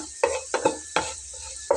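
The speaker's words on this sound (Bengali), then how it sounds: "এখন আমি এর সঙ্গে জিরাগুলো ভেজে নিয়ে নেব। দেখুন এখানে আমি গোটা জিরা দিয়ে নিচ্ছি।" Whole cumin seeds fry in a pan for a mixed dried fish bharta, with four or five sharp scrapes of a spoon stirring against the pan over a faint, steady sizzle, close up and with no talking.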